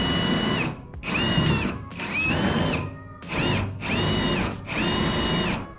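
Four or five bursts of a power drill whining at close range as it drills into a boat, each a second or so long with short pauses between, the motor pitch dipping as it bites.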